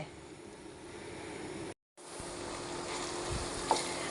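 Hog plum (ambazhanga) pickle sautéing in oil gives a steady, soft broadband sizzle throughout, briefly cut out for a moment midway, then resuming with a faint clink near the end.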